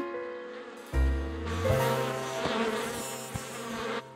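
Cartoon bees buzzing around a hive, a sustained droning hum that swells in after a brief lead-in, layered with a tonal score, with a couple of soft thumps along the way.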